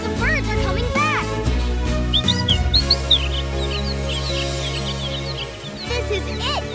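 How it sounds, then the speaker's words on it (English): Cartoon birds chirp in short, bright tweets scattered through a busy animated scene, heard over music and a voice with some talk. "The birds are coming back!"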